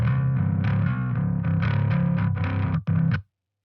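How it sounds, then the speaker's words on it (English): A bass guitar played through heavy distortion with the low end rolled off and the upper range emphasized, a gritty buzzing riff of repeated notes sustained for about three seconds, briefly cutting out before a final note and abrupt stop. "Sounds like a pretty awesome distorted bass tone, right?"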